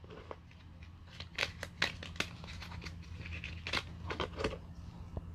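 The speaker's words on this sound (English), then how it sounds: "After which, you will shuffle each of these decks separately." Decks of playing cards are shuffled by hand in a quiet room, giving a run of soft, crisp riffling and flicking bursts, close by and faint, without talk.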